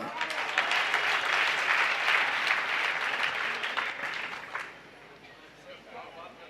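Clapping from a gathered audience at a religious discourse, dense and lively for several seconds, then fading out to a quiet room with faint murmurs.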